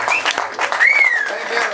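At the Bie Rock & Blues Festival in 2010, a festival audience claps for itself in dense, sustained applause, with a voice sounding over the clapping.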